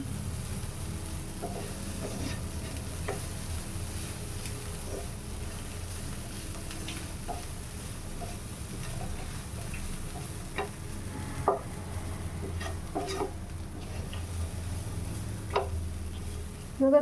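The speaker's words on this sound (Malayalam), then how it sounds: "നമുക്കിതൊന്ന് ഇളക്കി കൊടുക്കാം" Bean thoran fries in a pan with a steady low sizzle while a spoon stirs it, adding scattered light scrapes and ticks against the metal.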